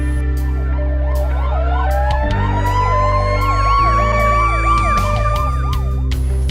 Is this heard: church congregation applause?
no